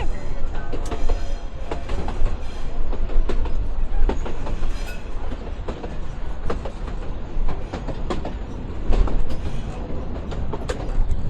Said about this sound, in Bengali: দশ মিনিটে আমাদের ট্রেনটা উত্তরের জেলা লালমনিরহাটে প্রবেশ করতেছে